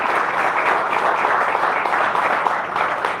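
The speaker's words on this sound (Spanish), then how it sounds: "Un fuerte aplauso," A seminar audience gives the moderator sustained, dense applause that stays steady and loud from start to finish with no talking over it.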